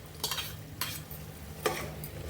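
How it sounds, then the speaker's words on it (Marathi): Soaked chana dal and chunks of elephant foot yam being stirred in a pan for a home-style suran bhaji, giving three short scraping strokes spaced apart, close and moderately soft, with no talk. "ते चांगलं ढवळून घेऊया"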